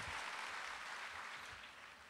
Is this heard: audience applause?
yes